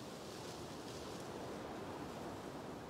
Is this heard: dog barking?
no